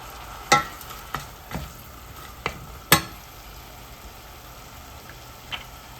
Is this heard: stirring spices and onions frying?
yes